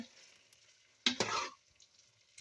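Chicken curry stirred in a pan, one short burst of scraping and sizzle lasting about half a second amid quiet, close by.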